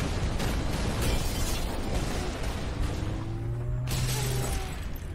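Fuel rod shots in the video game Halo Reach hit a Falcon aircraft as loud, continuous blasts and rumbling impacts, with a sharp burst near the end and a whining engine tone underneath.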